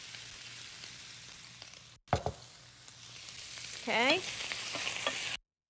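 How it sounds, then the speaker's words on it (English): Cauliflower rice hitting hot oil in a pan, a steady broadband sizzle that swells after a clatter and brief scrape, with a short spoken word at the start. "Now I'm going to add my rice, my cauliflower rice."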